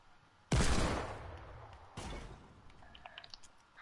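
Gunfire in a video game, with two loud bursts of shots. The first is a long sharp volley and the second is shorter, and both fade into a faint ringing tail with small clicks.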